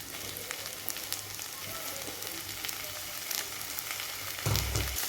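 Tomatoes with ginger garlic paste sauté for an oyster mushroom biryani, giving a steady close sizzle and frying crackle throughout. Stirring clatter and a louder, low scrape arrive near the end.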